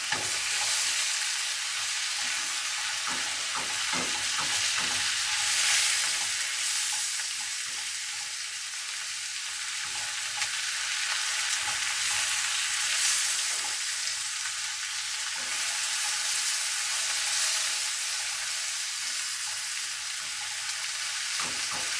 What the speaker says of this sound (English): Alright, so I'm going to kind of stir this around.